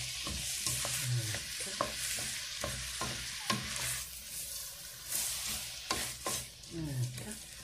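Onions frying in a pan sputter with a soft, fairly quiet sizzle, with repeated spoon scrapes and clacks against the pan and brief low noises, no talk.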